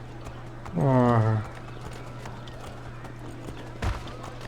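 A horse in Assassin's Creed 3 gives a brief whinny, then a single hoof clop follows, set against faint background hum with a short spoken interjection.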